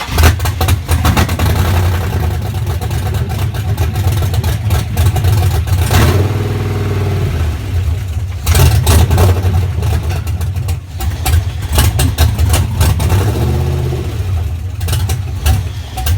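An MG car fitted with a swapped LS V8 runs right after its first startup, a loud rough idle with repeated throttle blips and revs rising and falling, close up and with no talking.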